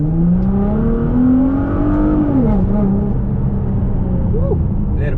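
Tuned stage 4 Litchfield Nissan GTR R35 at 650 bhp accelerating, a loud close engine and exhaust drone rising in pitch through the revs, easing off around the gear change and then climbing again.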